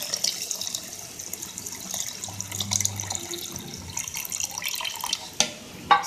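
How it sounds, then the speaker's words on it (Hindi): Milk is poured into yogurt for homemade lassi with a continuous, close liquid pour and splashing, mixed with some kitchen clatter and a couple of sharper knocks toward the end. "और अब मैं इसमें डालूंगी दूध।"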